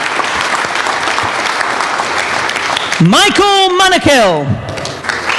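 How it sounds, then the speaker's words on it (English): Audience at a K-1 kickboxing pre-fight press conference in Los Angeles applauding the fighters, a loud steady wash of clapping throughout, with an announcer's amplified voice calling out names over it in the latter half. "Nice round of applause, please, for these young men"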